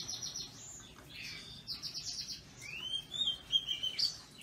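Oriental magpie robins in a breeding aviary, several bright chirps and whistled song phrases, intermittent and fairly close, clearer and more melodic toward the end.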